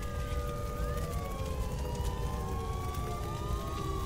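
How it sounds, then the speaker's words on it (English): Wailing siren sounding in Silent Hill Origins, long sweeping tones rising and falling continuously over a dense, noisy game ambience, loud and steady throughout. "Oh, there's the siren."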